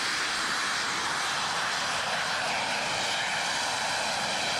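A jet-powered Volonaut personal flying vehicle hovers overhead above dusty ground, its small jets making a steady, broad roaring hiss that holds without pause, moderately loud and a little distant, with no talking.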